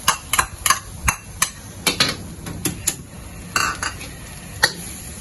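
Mushrooms stir-fried dry in a pan with no oil, after Chinese sausage, for steamed glutinous rice: repeated sharp scrapes and clinks of a utensil against the pan in an uneven rhythm, close and fairly loud.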